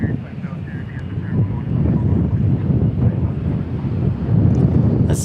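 Boeing 777 landing at DFW airport on a windy day, a loud steady low roar with gusty wind buffeting the microphone throughout, swelling slightly toward the end.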